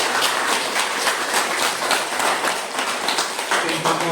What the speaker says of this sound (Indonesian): Boleh tepuk tangan yang meriah untuk kita.